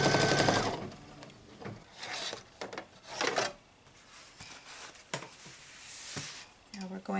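An embroidery machine stitches a placement line for a Kimberbell cozy wall hanging, its rapid mechanical whir rising and falling in bursts, close and moderately loud, with a voice talking over parts of it.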